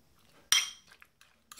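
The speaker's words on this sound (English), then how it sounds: "all you do is just mix them up" A homemade sandwich spread is mixed with cutlery: one sharp clink against a bowl, then a few softer taps and scrapes, close and quiet with brief pauses.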